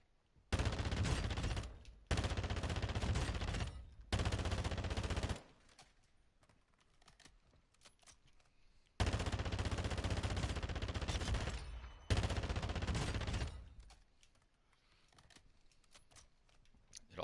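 Rapid automatic gunfire from the Call of Duty: Black Ops Cold War video game comes in several sustained bursts of a few seconds each, separated by brief quiet gaps, crisp and close.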